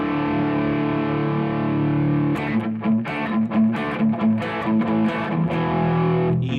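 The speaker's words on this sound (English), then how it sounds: "Put on a little bit more distortion." Electric guitar plays open power chords through heavy distortion, first one sustained, growling chord, then a run of choppy, rhythmic strums, loud and close with no voice.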